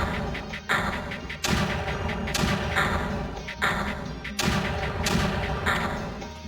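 Mortars fire in the Creeper World strategy game as a series of repeated heavy thumping bursts at a steady rhythm, loud and up close, with no talking.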